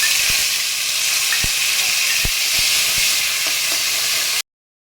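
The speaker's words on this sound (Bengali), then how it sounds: "এবারে আমি আদা বাটা দিয়ে দিচ্ছি, আদা আর কাঁচা লঙ্কা বাটা পেস্ট দিয়ে দিলাম।" Ginger and green chili paste frying in oil over whole-spice tempering, a steady loud sizzle running throughout with a few sharp spatter pops and clicks, close and without speech.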